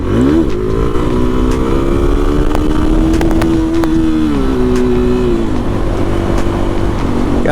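A supermoto dirt bike revs hard while doing break-in wheelies, its engine climbing in pitch, holding a steady high drone, then shifting, loud and close, with wind noise and no talking.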